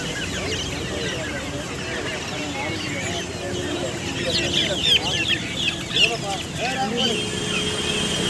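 Many desi village chickens cluck and squawk together at a crowded poultry market, with voices talking in the background and occasional louder cackles rising over the din.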